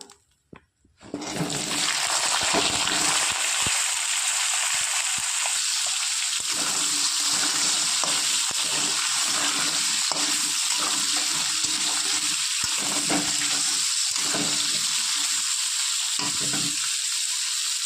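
Potatoes hit hot spiced oil for a cauliflower curry and burst into a loud, continuous sizzle. Close-up frying carries on steadily with faint scraping from stirring.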